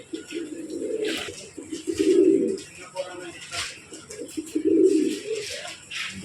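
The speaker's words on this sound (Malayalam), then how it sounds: "പ്രാവുകൾക്ക് ഭക്ഷണം കൊടുക്കുകയാണ്" Pigeons coo in bursts at a Manama market temple area while being fed grain, the soft throaty calls rising and falling repeatedly at close range amid faint background voices.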